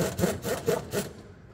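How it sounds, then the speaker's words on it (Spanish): A bolt is loosened on a Hyundai i25 shock absorber, four quick rasping ratchet-like strokes in a steady rhythm close by, then silence. "Ahí soltamos la tuerca y retiramos el tornillo hacia atrás."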